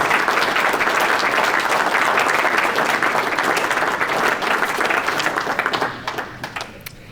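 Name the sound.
audience applause for award nominees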